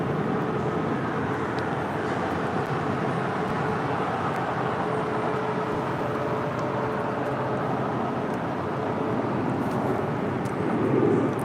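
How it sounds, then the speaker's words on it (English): A Delta Airlines Boeing 757-200 taxis at LAX, giving off a steady, broad jet-engine roar that holds continuously at moderate loudness and swells slightly near the end, with no voices over it. "That is Delta Airlines flight 845 right there on taxiway Kilo. We'll be heading to Reagan National in the 757-200."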